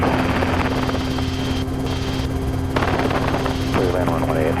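Helicopter flying close by near an airport, a loud steady rotor and engine drone running throughout with radio-style voices talking over it.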